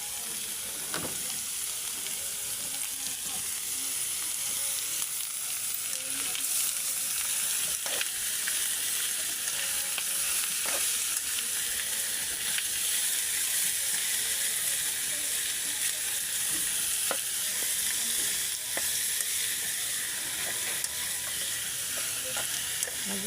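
Octopus tentacles fry in a pan, a steady broadband sizzle running throughout with occasional scrapes and clicks as they are stirred, close and alone without talk.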